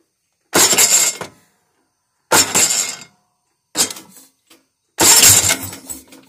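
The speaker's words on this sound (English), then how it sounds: "I've slid this thing together just enough so we can test the starter and make sure it's going to work right" The starter on a Case Ingersoll 446 tractor cranks in four separate loud bursts, each a harsh, grinding whir lasting under a second, with silent gaps in between.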